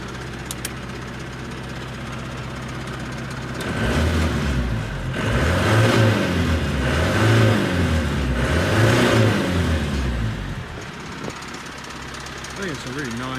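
A Land Rover Stage One diesel engine idles with a meaty knock, then revs up in several rising and falling surges before settling back to idle, loud and close, with someone speaking nearby.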